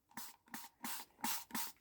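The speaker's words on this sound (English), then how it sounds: "now we could test my bigger bottle, my big misting bottle that I got off Amazon" A large plant misting bottle fires five quick, evenly spaced hissing bursts of fine spray, each with a small trigger click, heard close and alone.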